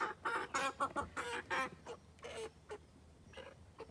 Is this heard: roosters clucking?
yes